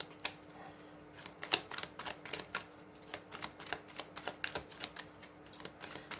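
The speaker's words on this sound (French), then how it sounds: "je vais bien remélanger les cartes." Tarot cards being shuffled by hand, heard as a quiet, close run of crisp flicking clicks and riffles in an irregular rhythm, with no talk.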